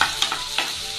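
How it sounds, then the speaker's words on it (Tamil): Onions frying with cinnamon and cloves in a pan, a steady close sizzle with a few quick scraping stirs over it, loud and continuous for the brief moment. "இந்த ஆனியன் வந்து நல்லா கோல்டன் கலர் வர வரைக்கும் நல்லா ஃப்ரை பண்ணுங்க"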